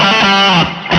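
Electric guitar played through a Limetone Audio Moonlight reverb pedal, a loud sustained chord ringing with a bright, thick wash, then a second strum near the end.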